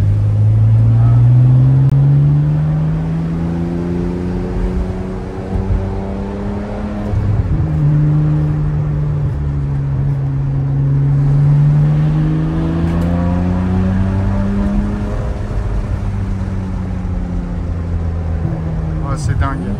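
A Ferrari 599 GTB Fiorano's naturally aspirated V12 with an aftermarket exhaust kit revs hard to high rpm, a loud, sustained harmonic roar that climbs, drops between shifts and climbs again, heard from inside the car.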